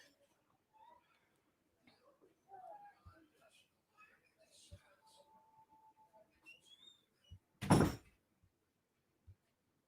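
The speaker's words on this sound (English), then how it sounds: "Close the door for me." A door swings shut indoors with a single loud, hard thud near the end, after a stretch of quiet room noise with a few soft knocks and faint whistle-like tones.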